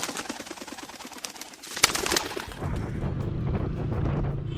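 Pigeons at a loft give soft cooing calls and brief wing-flutter bursts, with gusty wind noise rumbling across the microphone throughout.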